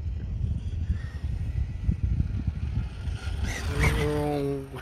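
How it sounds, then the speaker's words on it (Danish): A remote-controlled toy motorcycle, said to reach 80 km/h, races along with a continuous buzzing motor whine that climbs into a rising, revving pitch toward the end, close by and fairly loud over broadband road and background noise. "En motorcykel, fjernstyret motorcykel."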